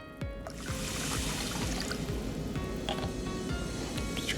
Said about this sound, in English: And finally, I'm just gonna add a splash of club soda.